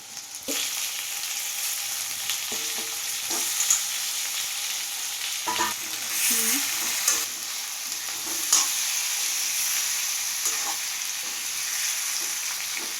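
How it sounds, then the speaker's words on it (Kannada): Continuous sizzling of stuffed ridge gourd frying in hot tempering oil, with occasional clinks and scrapes of a utensil in the pan; no voices. "ತುಂಬಿಕೊಂಡಿರೋ ಹೀರೆಕಾಯಿಯನ್ನು ಒಗ್ಗರಣೆಯಲ್ಲಿ ಬಿಟ್ಕೊಳ್ತಾ ಹೋಗಿ"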